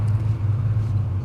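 A 1995 Impala SS with a 383 engine idles steadily nearby, a low continuous rumble with no talk.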